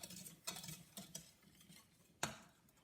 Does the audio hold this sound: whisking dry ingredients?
yes